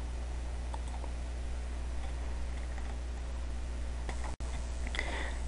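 Computer mouse clicks in the Chrome browser, a few faint, sparse taps over a steady low electrical hum.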